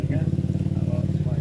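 A motorcycle engine runs with a steady, low, pulsing throb, close and fairly loud, while a voice talks over it.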